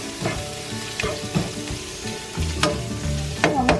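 Vegetables such as red pepper, carrot and celery stir-fry for shrimp lo mein, a loud close sizzle broken by repeated scraping stirs and tosses in the pan, no voices.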